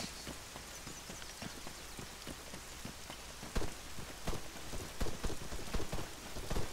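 Rain falls in the Arma 3 video game, a steady hiss of drops with scattered sharper patters and a few louder splashes, continuous and fairly soft throughout.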